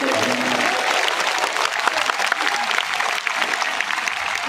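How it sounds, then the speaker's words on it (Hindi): A large crowd at a Bageshwar Dham divine court gathering applauds loudly and steadily, a dense wash of clapping that holds at full strength throughout. "जोरदार ताली बजा करके"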